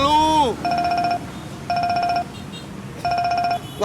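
A telephone rings loud and near in three identical electronic bursts separated by short pauses, after a brief voice at the very start.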